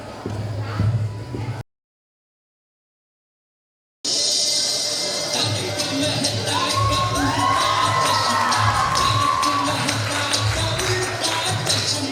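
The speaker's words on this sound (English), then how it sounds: "Let's welcome them with a big round of applause." An audience at a school annual function cheers and shouts, with children's voices prominent, in a loud crowd that cuts out for a couple of seconds and then returns with sustained cheering and whoops.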